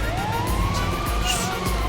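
Ambulance siren in the video game GTA V, a loud continuous wailing tone sweeping up and down over engine and traffic rumble.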